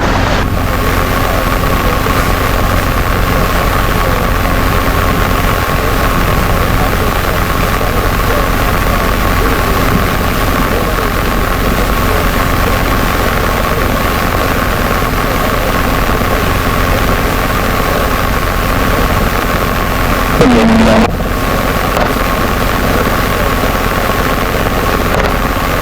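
Robinson R22 helicopter in flight on final approach, a steady close rotor and engine drone running throughout with a constant hum, a brief thump near the end.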